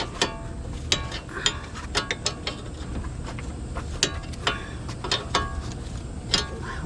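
A ratchet tightening a sway bar link nut on the front suspension of a 2004–2010 Toyota Sienna, a run of sharp, irregular metallic clicks and short bursts of ratcheting, close up over a low background hum.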